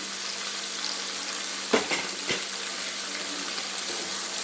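Onions, chili, tomato and curry leaves fry for bagara rice in a constant crackling sizzle, with two sharp stirring knocks near the middle and no talking.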